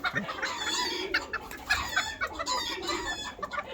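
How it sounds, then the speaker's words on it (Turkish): A laying hen clucks close by in a busy run of short, throaty calls, with other fowl chattering around it and no talk over them. "Ve yumurtlar durumda bir tavuk"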